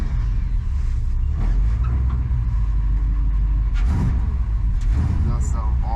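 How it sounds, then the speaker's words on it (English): Engine of the world's largest off-road wrecker runs rough and uneven, as if missing a cylinder, with exhaust leaks; a close, continuous low rumble with irregular chuffing and a few clanks. "It sounds like it has exhaust leaks and runs on 5 cylinders."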